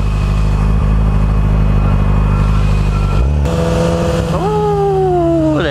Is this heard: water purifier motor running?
no